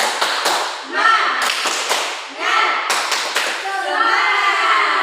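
Children in a classroom clap a short rhythmic cheer pattern together, sharp bursts of claps in clusters with pauses between, alongside a teacher's and kids' voices calling out.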